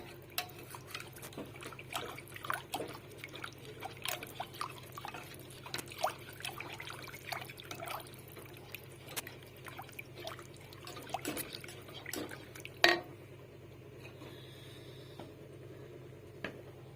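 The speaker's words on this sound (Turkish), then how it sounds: "Şimdi soğuk suyla açıyorum. Çırpıcıyla topaklaşmadan da dağılsın." A whisk clinks and swirls through a mixture thinned with cold water for Turkish ezogelin lentil soup, close light tapping against the bowl with soft liquid trickles, no talking.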